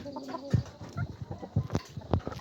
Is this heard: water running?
no